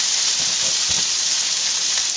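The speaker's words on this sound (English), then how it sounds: "heat that cream up to a boiling" Light cream heats in a pan over medium heat, giving a steady, close hiss and faint sizzle that holds at an even level throughout with no talking.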